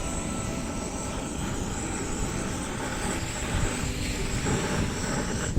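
A drone buzzes steadily overhead at a beach on Karimunjawa, a continuous whirring drone mixed with wind and surf noise, moderately loud and unbroken, with no talking.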